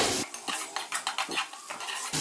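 Cabbage and boiled chicken stir-fried for egg noodles, a utensil scraping and clattering against the pan in quick repeated strokes over a soft sizzle, close and fairly loud.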